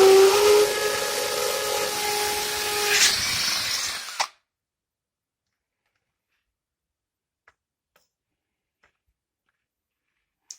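A power drill bores a hole for a shower handrail, its bit cooled with water, whining loudly and steadily for about four seconds before cutting off, followed by near silence with a few faint clicks.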